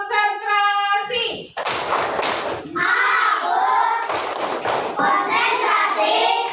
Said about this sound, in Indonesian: Tepuk tangan dulu untuk Nathan